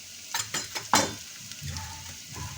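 Onion sizzles in a hot pan with black pepper, coriander and turmeric powder while a spoon stirs and scrapes in quick strokes, making a close, steady frying hiss.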